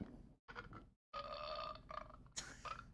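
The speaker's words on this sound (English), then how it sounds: "Why the burp?" A person burps loudly during a casual talk about painting, a throaty, drawn-out belch broken by short pauses, close and clear with no other voices.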